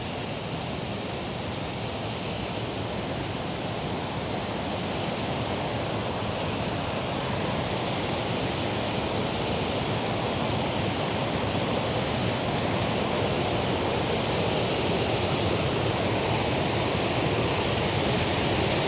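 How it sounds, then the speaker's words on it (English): Steady, dense roar of a waterfall, constant and enveloping with no breaks, no voices over it. "Something magical about waterfalls."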